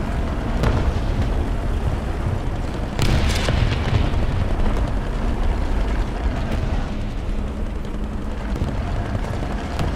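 In War Thunder, a destroyed target explodes during a T32 heavy tank battle. A loud, deep boom bursts out against a constant rumbling battlefield din, followed by lighter distant pops.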